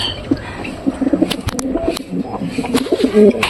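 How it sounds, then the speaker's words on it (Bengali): A pigeon coos close by in repeated low, throaty rolling calls, with a few sharp higher sounds mixed in and faint voices in the background. "আর এটা লক্ষ্য কবুতরের ডাক এটা"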